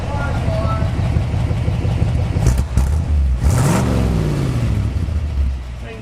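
The engine of a 1964 Ford F250 dump truck runs close by, a steady low rumble that swells into a couple of revs before settling back to idle, with voices talking over it.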